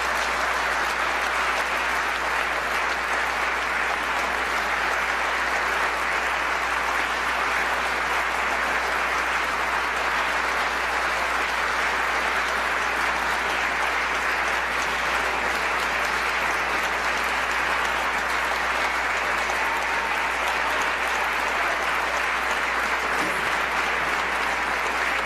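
Sustained applause from a legislative audience at the New Jersey governor's budget address, steady dense clapping lasting throughout with no talk over it.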